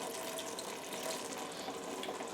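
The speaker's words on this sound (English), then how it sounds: "I may add a dash of water again actually because I don't want it" Water is poured into a simmering aloo matar paneer curry, giving a steady, close hiss and splash under a faint sizzle, with no voices.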